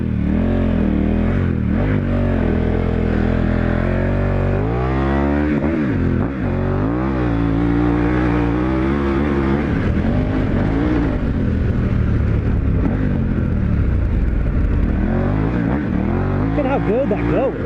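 A dual sport motorcycle on adventure or 50/50 tires powers through deep sand, its engine loud and revving steadily throughout with rising and falling pitch, while a rider talks over it.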